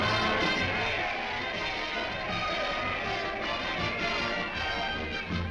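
A hometown crowd cheers a returning soldier with a brass band nearby, a broad, continuous roar of many voices lasting throughout at a steady level.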